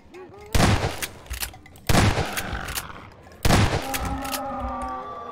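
Three loud, separate shotgun blasts from the Half-Life 2 video game, each a broad booming crack with a ringing tail, spaced about a second and a half apart over low background game noise.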